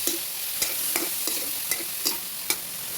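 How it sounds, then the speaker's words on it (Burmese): Prawns sizzle steadily as they stir-fry in a hot pan while a utensil scrapes and taps at irregular intervals, with no talking. "ခုဆိုရင်တော့ပစုံတွေပါထည့်မှွေပြီးကြော်နေတာပေါ့နော်"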